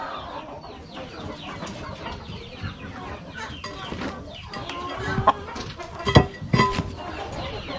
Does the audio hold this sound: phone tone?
no